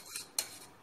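A spoon clinks against a container as wheat-flour ice cream mix is poured in: a few brief, quiet metallic taps spaced through the moment, with no one speaking.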